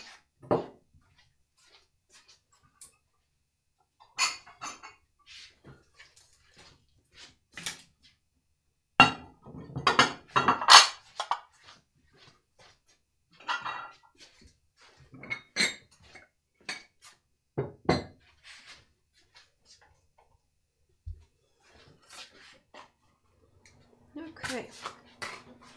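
Polish pottery dishes, including a large lasagna baking dish, clink and clatter in scattered bursts as they are handled and cleaned, close and fairly sharp, with a person talking between the knocks.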